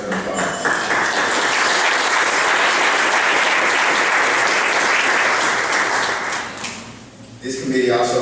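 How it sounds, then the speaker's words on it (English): A large audience at a university senior honor citation ceremony bursts into loud, dense applause that holds steadily, then tapers off near the end as a voice resumes speaking. "I think that's worth an applause."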